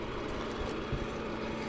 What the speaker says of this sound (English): now here's the sound with it just idling